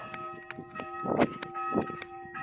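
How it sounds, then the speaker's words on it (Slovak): Church bells ringing with clear repeated strikes and long tones, a little distant, mixed with a few close knocks and rustling, no speech. "Tak zvoní kostol."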